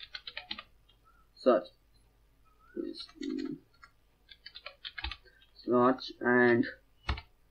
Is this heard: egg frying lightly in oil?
no